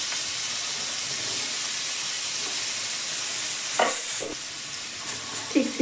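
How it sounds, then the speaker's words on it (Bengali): Carrots and vegetables fry in a wok with a constant close sizzle and hiss, and a few sharper stirring scrapes come near the end. "গাজর ডিম কড়াই একটু ভেজে নিচ্ছি"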